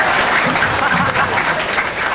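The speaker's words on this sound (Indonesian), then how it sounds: "Oke, tepuk tangan untuk aku ya." Audience clapping at an Islamic religious lecture, a loud dense burst of applause from a crowd filling the whole short moment.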